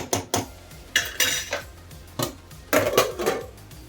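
In a home kitchen, a metal lid is set onto a pot of frying ponnaganti greens and moong dal. A handful of short, close metallic clanks and scrapes come in uneven bursts, with no talk.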